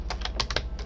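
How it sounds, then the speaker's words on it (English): Keys on a sticky computer keyboard are pressed, about eight quick sharp clicks in an uneven burst, close up, with no speech. "Sticky keyboard."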